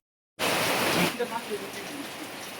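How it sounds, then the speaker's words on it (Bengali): Heavy rain pours onto a house roof that is broken and letting water through, a dense, steady hiss that begins abruptly and stays loud and continuous throughout. "আজকের এখানটায় প্রচুর বৃষ্টি হচ্ছে"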